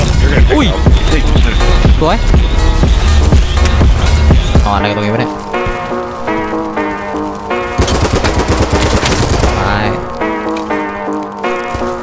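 Machine gun fire in BattleBit Remastered, loud rapid rattling shots that carry steadily through the stretch, partly mixed with a pitched, tonal music-like layer and talk.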